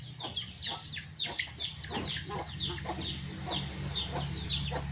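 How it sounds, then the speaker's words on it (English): Hens and a rooster clucking in a rural Indonesian yard in South Sumatra, a busy run of overlapping high clucks and short squawks close by over a low steady hum, with faint talk nearby. "It's rooster. And the smallest chicken."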